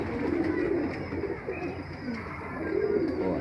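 A male Allahabadi lalloo pigeon coos close by, low throaty rolling calls in two swells over a steady background murmur.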